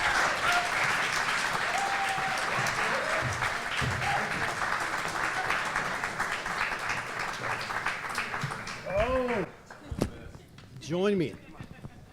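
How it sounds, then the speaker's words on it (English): A live audience at a New York show applauds guests walking onstage, dense sustained clapping and cheering that thins out toward the end, with a host's voice speaking over it. "Please welcome to the stage and give a round of applause to Moira Dillon, Pascal Wallisch, and Jay Va"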